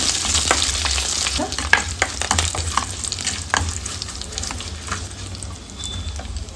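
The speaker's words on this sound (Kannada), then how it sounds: "ಈ ರೀತಿಯಲ್ಲಿ ಸಾಸಿವೆ ಚಿಟಪಟ ಅನ್ನುವಾಗ ಕರಿಬೇವು ಕುಪ್ಪನ್ನು ಹಾಕೊಳ್ಳೋಣ ಹಾಗೆ ಒಂದು ನಾಲ್ಕು ಕಟ್ ಮಾಡಿದ ಒಣಮೆಣಸಿನಕಾಯನ್ನು ಹಾಕೊಳ್ತಾ ಇದ್ದೀನಿ" Mustard seeds, curry leaves and dried chillies crackle and sizzle in hot oil for pepper rasam, a close, busy frying hiss dotted with sharp pops and light stirring scrapes throughout.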